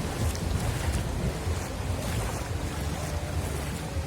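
Sea waves washing ashore at Baga Beach in Goa on a shallow stretch with exposed sand, a soft continuous surf rumble with wind buffeting the microphone and no voices.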